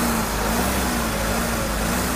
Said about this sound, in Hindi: ये देखिए इंजन चालू हो चुकी है